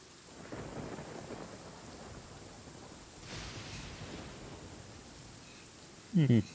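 Steady rainfall with low rolling thunder in the Genshin Impact video game, a soft continuous wash of rain swelling in two distant rumbles, followed by a short louder thump at the very end.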